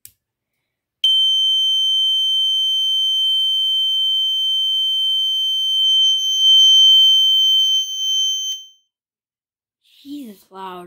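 A System Sensor P2RL fire alarm horn sounds a loud continuous 3K tone for about seven and a half seconds after a short silence. It stops abruptly, and a voice briefly follows.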